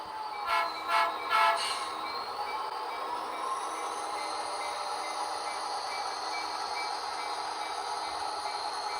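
A DCC-controlled model train runs with a steady mechanical whir and rail rumble, with a few short horn-like toots near the start.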